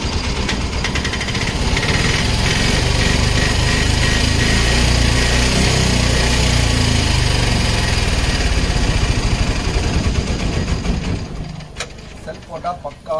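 A 2008 model vehicle's engine starts and runs at a steady, loud idle with a rough, buzzing mechanical clatter, close to the listener and continuous throughout, easing slightly near the end.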